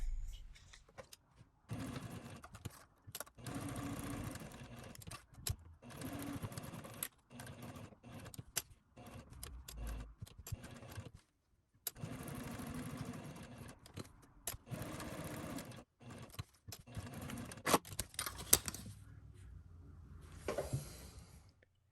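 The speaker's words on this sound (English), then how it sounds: "you can see I started sewing there" A sewing machine stitches fabric for a beginner ID and vaccination card holder, running in short, quiet bursts with frequent pauses between them.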